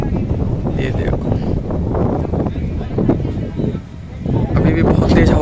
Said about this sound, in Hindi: अभी भी बहुत तेज हवा चल रही है।